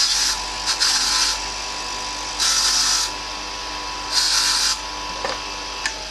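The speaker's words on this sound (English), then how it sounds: "what you're hearing is just me quickly buffing the key" A freshly cut Toyota TOY43 car key is buffed on a locksmith's machine, giving a steady motor hum broken by three bursts of harsh, high brushing grind, close and fairly loud.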